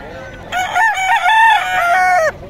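A rooster crows once at a Bocaue market, loud and close, a long drawn-out call with a falling end.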